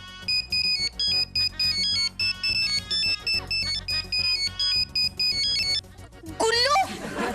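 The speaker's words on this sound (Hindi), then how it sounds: "ये गुल्लू तुझे क्यों फोन कर रहा है?" A mobile phone ringtone plays a repeating melodic pattern in short bursts, loud and close, before a brief different jingle at the end.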